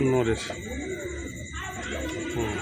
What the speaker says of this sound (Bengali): এবার পায়রা দুটো দেখাচ্ছি আপনাদেরকে। এই হচ্ছে চন্দ্রখানি রামপুরি, নর আছে।